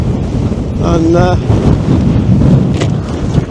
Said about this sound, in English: I say it's very, very windy.